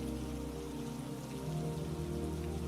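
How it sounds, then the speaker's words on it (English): Steady rain falling and pattering on a surface, a dense, even hiss with no break from start to finish and no voices. "the rain continued to fall outside the library windows"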